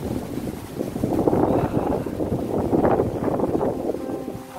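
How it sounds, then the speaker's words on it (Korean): Wind blows across the microphone during a summer ride, a continuous low buffeting rumble that swells and fades, close and fairly loud with no other clear sounds. "바람이 와 진짜 시원하게 분다"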